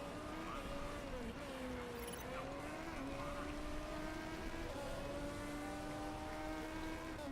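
Race car engines in Motorsport Manager as cars exit the pit lane: a steady, fairly faint droning whine with slowly shifting pitch that continues throughout, with no distinct pauses.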